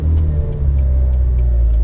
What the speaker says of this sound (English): I do love the way this car comes on boost